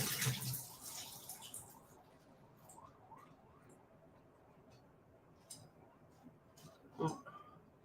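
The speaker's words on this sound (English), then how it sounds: "I'm going to drain out the water." Water drained from a pot in a home kitchen while preparing dessert, heard as a brief splashing pour at the start, then scattered gurgles and small clinks, quiet and close.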